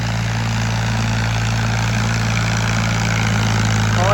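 A tractor engine runs at a steady idle, a loud, continuous low throbbing hum that holds constant throughout.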